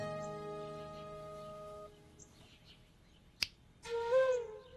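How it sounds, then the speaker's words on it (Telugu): A single sharp finger snap cracks out once in a film comedy scene, brief and crisp between fading sustained tones and a short tonal sound just after. "జస్ట్ అలా చిటికే అంతే."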